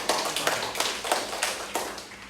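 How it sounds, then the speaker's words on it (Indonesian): A classroom of students claps together in a quick, steady rhythm, sharp overlapping hand claps repeating about every third of a second for a couple of seconds with no talking. "Oke, beri aplaus."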